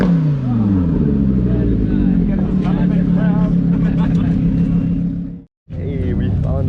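A Lamborghini engine at an outdoor car meet revs loud and close, a rising harmonic snarl that holds steady and then cuts out abruptly before restarting, with voices mixed in over it.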